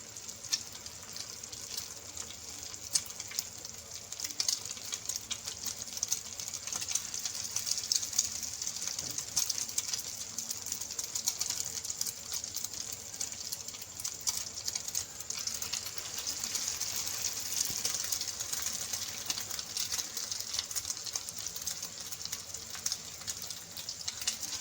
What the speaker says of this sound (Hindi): एक अंडा लिया है हमने, इसमें कबाब को अच्छे तरीके से डिप करेंगे और इसे फ्राई करेंगे